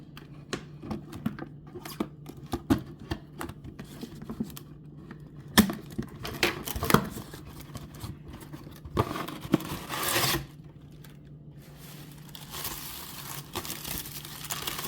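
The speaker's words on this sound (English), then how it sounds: "I'm not good at this with the scissors." Scissors snip and tear at a cardboard Breyer 2025 Collector Club mystery box, giving scattered crinkly cuts and ripping bursts at close range, loudest in the middle, with faint handling noise between.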